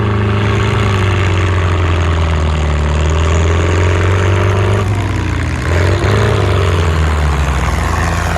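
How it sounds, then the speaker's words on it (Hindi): A tractor engine idles steadily at a tractor race, a loud, continuous low rumble with a brief dip in intensity partway through, no voices over it. "ये ट्रैक्टर है, ये भागने के लिए फुल तैयार है"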